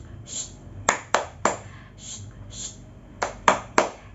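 Rhythmic 'tepuk diam' clap game in a classroom: a patterned run of sharp, separate claps, some in quick pairs, with soft speech-like sounds between them.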